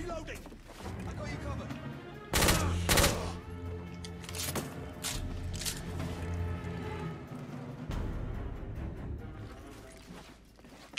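Gunfire in The Order 1886, a third-person shooter: heavy, kicking shots in bursts and single blasts, several loud cracks standing out, amid ongoing rattling fire and clatter.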